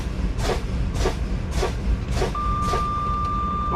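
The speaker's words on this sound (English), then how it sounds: "My warning light and my buzzer both came on at or above 55 psi." Low air pressure warning buzzer in the cab of a 2024 Freightliner truck as the service brake pedal is pumped, a steady tone that comes on partway through, set against rhythmic hissing bursts from the brake air.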